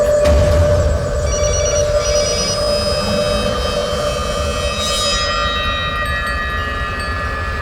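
A telephone rings on and on with no one answering, a steady electronic trill over a low background hum.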